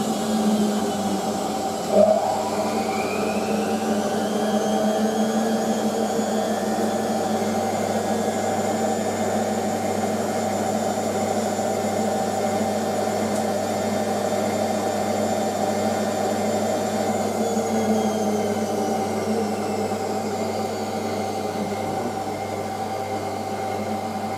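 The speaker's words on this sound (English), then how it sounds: "Should be spinning exactly the same time." Two Hotpoint 9530 washing machines, a 9530A and a 9530W Electronic, spin side by side at high speed. The result is a loud, steady whine and rumble that rises early and then holds for a long stretch, with no voices.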